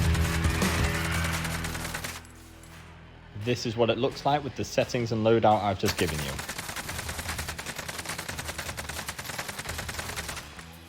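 AK-47 automatic gunfire in Call of Duty, played on PS5, comes as sustained rapid bursts with a short pause, heard under someone talking.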